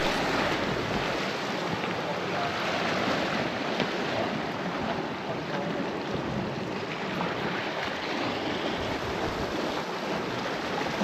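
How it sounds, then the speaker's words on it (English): Gusting wind buffets the microphone on a rocky Isle of Skye sea-fishing coastline, a constant loud roar blended with surf and waves, with no clear voices over it. "just trying to get a bit of shelter out the little wind that is here. It's playing havoc with us."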